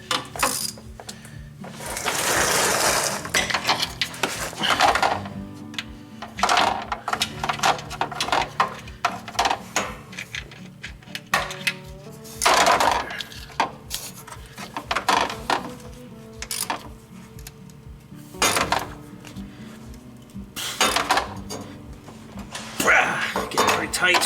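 Close ratcheting clicks from a 15mm socket wrench tightening starter bolts on a 1999–2004 Jeep Grand Cherokee, coming in repeated bursts with metallic clanks and shifting tools between them.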